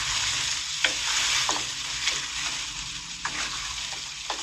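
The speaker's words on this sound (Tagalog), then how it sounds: "Atin muna ipapa-brown ng konti ang ating bawang." Garlic and onion sautéing in oil for Filipino menudo, a close, steady sizzle with a few soft stirring scrapes and taps.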